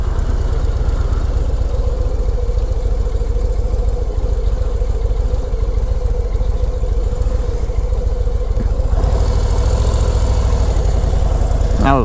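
Steady motorcycle engine drone from a low rider cruising at speed, a continuous close rumble with wind noise throughout and a slight shift in tone near the end.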